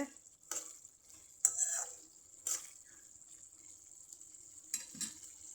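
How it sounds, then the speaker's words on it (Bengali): Chickpeas stir-frying for boot bhuna in a pan, with a faint steady sizzle broken by a few sharp scrapes and clinks of a spoon against the pan, close and quiet. "আমি বুট ভুনা করতেছি।"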